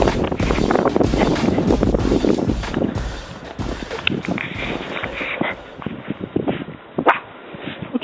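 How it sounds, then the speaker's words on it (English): A dog barks repeatedly outdoors in a Chicago blizzard, loud, close bursts over heavy wind buffeting the microphone, then quieter barks as the gusts ease. "What you barking at?"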